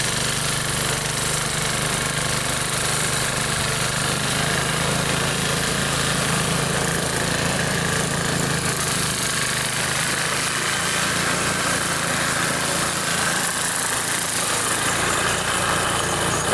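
A small engine on a snowblower runs for the whole stretch with a loud, steady, rumbling drone and no pauses or voices.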